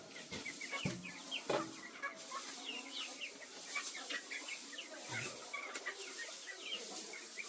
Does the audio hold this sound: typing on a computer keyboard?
no